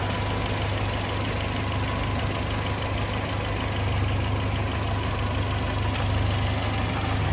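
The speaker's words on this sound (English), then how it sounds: "with the engine idling nice and warm. There's a very, very slight tick from the exhaust." A 1971 Land Rover Lightweight engine idles steadily and warm, close up under the open bonnet, with a faint regular exhaust tick repeating through the low continuous rumble.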